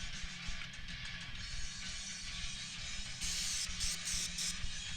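DeoxIT contact cleaner sprays from an aerosol can in a steady, close hiss, with a few short sharper bursts near the end over a low rumbling background.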